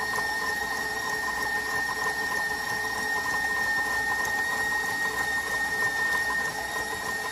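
An electric mixer runs at high speed creaming butter and sugar, a steady close whirring drone that holds without pause and without talk.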